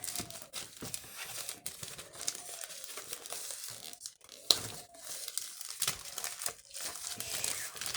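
Wooden model kit packaging is unwrapped with close, irregular crinkling and tearing, occasional sharp crackles between quieter rustles, with no talking.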